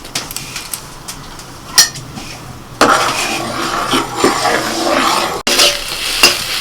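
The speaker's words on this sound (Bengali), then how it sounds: "কলমি শাকটা ভাজা হয়ে গেছে" Water spinach (kalmi shak) frying in a pan in a home kitchen, with a steady sizzle and scraping stir strokes that grow louder partway through, plus occasional clinks of utensils against the pan.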